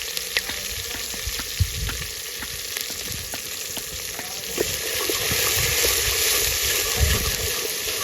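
Chillies and curry fry in a pan, a steady close sizzle with occasional scraping stirs that thickens toward the end.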